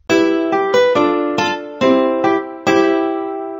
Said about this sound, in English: A guitar sounds like this.